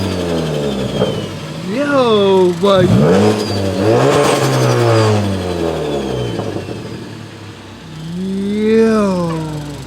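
A Ford Focus ST with a big turbo and its blow-off valve removed revs hard, the engine note climbing and falling through several pulls with turbo whoosh, loud and close, while people talk over it.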